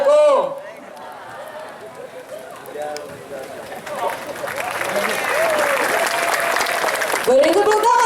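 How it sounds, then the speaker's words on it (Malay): An audience at a Cagok Aceh performance at Sabang Sail 2017 breaks into applause that swells steadily into a dense, sustained clatter of clapping, with a voice speaking over it at the start and again at the end. "Beri tepuk tangan sekali lagi dong."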